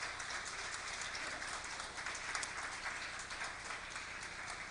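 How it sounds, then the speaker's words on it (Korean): A church congregation at a Sunday worship service claps in a steady, dense wash of applause that sounds faint and somewhat distant, with no talk over it. "우리 감사와 찬송과 영광의 박수를 뜨겁게 보내십시다."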